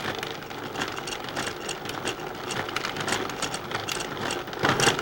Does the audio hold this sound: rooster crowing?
no